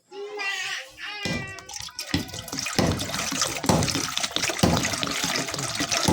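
Water pours into a large cooking pot for chicken soup, a splashing, gurgling fill that starts after a brief pause and runs steadily and fairly loud, with a voice heard briefly at the start.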